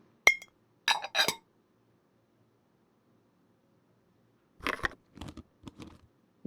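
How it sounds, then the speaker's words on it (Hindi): A bowl set on top of another bowl filled with ice makes a few sharp, close clinks and crunchy knocks in two separate clusters, with quiet gaps between them. "इसके ऊपर एक और बाउल रखेंगे।"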